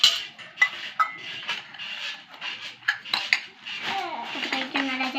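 Curry being stirred in a metal cooking pot, close scraping and clinking of a spoon against the pot in irregular strokes, with brief quiet gaps between them.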